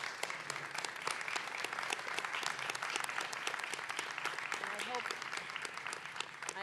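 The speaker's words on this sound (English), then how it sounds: "So please join me in a round of applause." Sustained applause from a meeting audience, dense and steady clapping throughout, fairly distant and moderate in level.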